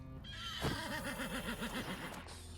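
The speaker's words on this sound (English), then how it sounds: "What the horse doing?" A horse in the video game Wartales gives a single loud neigh, a wavering whinny that rises then shakes downward for about a second and a half, heard alone over a low background.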